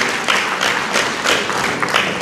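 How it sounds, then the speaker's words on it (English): Audience applause at a graduation ceremony, a steady dense wash of many hands clapping together with no breaks, filling the whole stretch at an even, fairly loud level. "Really clap for them."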